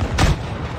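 A single heavy tank cannon shot booms in the video game World of Tanks Blitz, a loud sharp blast that decays quickly into a rumbling tail.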